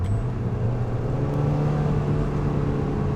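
An NC Mazda Miata fitted with a Track Dog Racing intake runs with a steady, loud engine drone and low rumble throughout, with no talking.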